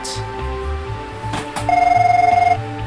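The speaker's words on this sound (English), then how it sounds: "Oh, here's the phone call." A phone rings in the video game Magical Eyes – Red is for Anguish, a steady electronic ring pulsing rapidly for about a second over quiet background music.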